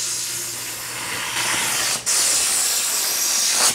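A compressed-air gun blasts air through a clogged water jet cutting nozzle and metering disc, giving a loud, steady hiss that briefly cuts out near the middle and then resumes at full strength.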